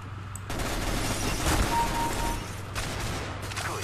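Sustained burst of Negev machine gun fire in Counter-Strike: Global Offensive, a loud continuous rattle holding for most of the moment with a brief dip near the end before resuming.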